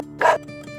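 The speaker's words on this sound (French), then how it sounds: "le chien refuse et continue de japper et d'aboyer" A dog gives a single sharp bark, loud and close, against a quiet background.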